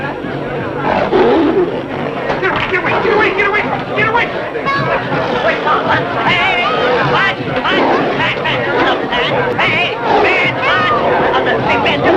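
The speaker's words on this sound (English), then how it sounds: "That crazy tiger's mauling Franz!" A tiger roars and snarls loudly and continuously while mauling a man, with agitated voices shouting close by throughout.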